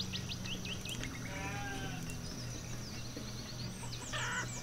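Sheep in the town-building game Banished bleat faintly over a busy ambient bed of bird calls and village noise. Short cries recur through the scene and no one speaks.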